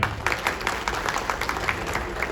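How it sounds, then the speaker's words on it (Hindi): Crowd applause for Manoj Shaukeen, the BJP candidate from Nangloi, at a political gathering in Delhi, a steady patter of clapping from a moderate-sized group heard at middling distance. "एक बार बड़े भाई मनोज शौकीन जी के लिए सभी तालियां बजाएंगे।"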